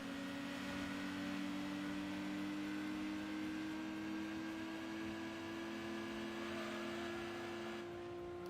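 Racing car engine in Gran Turismo 2 after a downshift, a steady high whining drone that climbs slowly in pitch as the revs build, sustained and without talk.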